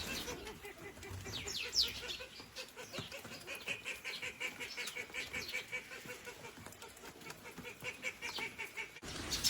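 Geese, ducks and other fowl gathering in a farm field to eat scattered feed, with honking and scattered calls overlapping at a steady, moderately close level throughout.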